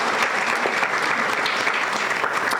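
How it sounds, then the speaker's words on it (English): Luncheon audience at an LGBTQ+ Pride event applauding the servers and kitchen staff, a steady, dense wash of many hands clapping at close range, with no talk over it. "So big round of applause to the servers, to the folks making the drinks, making the food as well."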